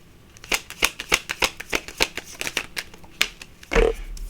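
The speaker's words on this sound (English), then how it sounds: "Let me get a couple of state cards out here." Tarot cards are shuffled and drawn in a quick run of crisp, close riffling snaps, ending in a longer soft swish.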